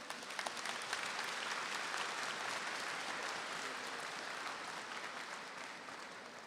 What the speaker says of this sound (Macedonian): Ве молам уште еден аплауз за нашиот тим.